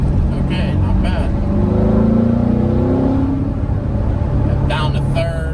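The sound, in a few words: Chevrolet Corvette C7 engine accelerating out of corners in third gear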